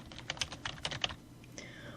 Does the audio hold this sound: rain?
no